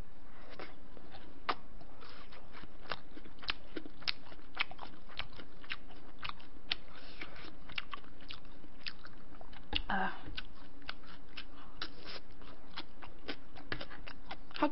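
Someone eats soft tofu stew, gimbap and pork cutlet close up, with repeated crunchy bites and wet chewing in a steady stream of small, sharp clicks and smacks.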